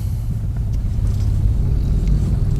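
Car pulling away slowly in first gear as the clutch is eased up on a damaged, rough road, giving a steady low engine rumble that stays constant and fairly loud throughout, with no talk.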